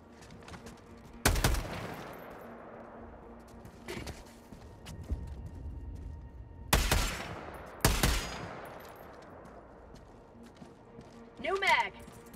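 Gunfire in the Helldivers 2 video game: several sharp, loud shots and short bursts with ringing tails at irregular gaps, separated by quieter stretches of background noise and mechanical clatter, ending in a brief metallic whirring burst.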